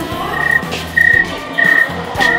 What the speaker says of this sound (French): c'est les grillons